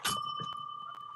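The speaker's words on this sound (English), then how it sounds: "I accidentally hit the cards and cards hit the bell and it made it." A small bell is struck when falling tarot cards knock against it, giving one bright ring that sustains and slowly fades, close and clear with no talk over it.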